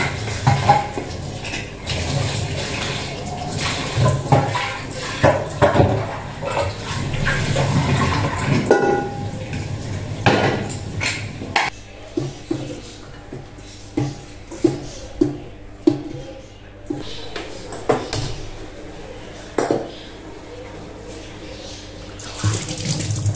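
Tap water runs and splashes in a kitchen sink while vegetables are washed, with clattering of pots and utensils, loud and close, and the flow breaking into intermittent bursts.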